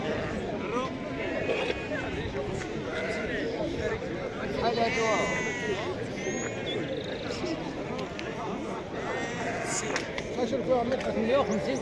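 Sheep bleat at an outdoor livestock market at Timhdit, several calls rising close and at middle distance over a steady crowd murmur, with people talking throughout.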